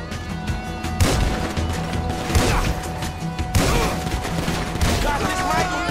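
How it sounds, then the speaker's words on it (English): Rapid bursts of gunfire in the GTA V video game, loud repeated shots and crashes in several clusters over constant action noise, with voices shouting underneath. "Shoot that gun, kid!"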